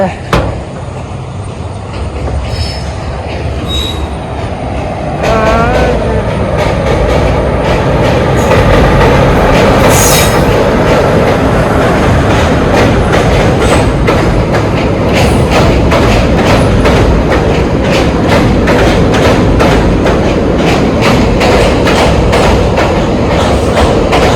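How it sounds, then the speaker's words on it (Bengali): A train passes close by on a rail line in Kerala, with steady rumbling and rhythmic clickety-clack of wheels over rail joints that keeps going loud and unbroken throughout. Faint voices come through briefly near the start. "আর একটা ট্রেন যাচ্ছে পাশ দিয়ে।"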